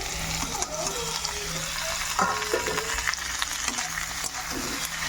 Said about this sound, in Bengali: আর এই যে পেঁয়াজ রসুন এগুলো সব ভাজছি।